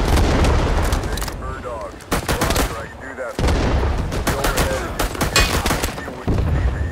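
Rapid M1 carbine gunfire in Rising Storm 2 on the Dong Ha map, dense overlapping shots and distant battle booms filling the whole stretch, with a player talking over the continuous firefight.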